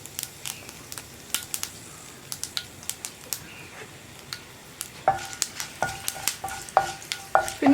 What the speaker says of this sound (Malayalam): ഇനി നമ്മളിതിലേക്ക് ചേർക്കുന്നത് ഒരു 3 വറ്റൽമുളകാണ്.